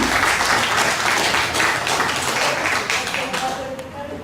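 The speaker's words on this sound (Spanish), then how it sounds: "¿Por qué no le dan un aplauso a Dios?" Church congregation applause, a dense, sustained clapping that fills the whole stretch at steady strength before thinning slightly toward the end.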